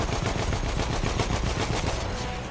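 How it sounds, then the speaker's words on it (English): Sustained loud gunfire with bullets flying in Battlefield 1, a steady rattle of rapid shots filling the whole moment. "There are bullets coming at my face."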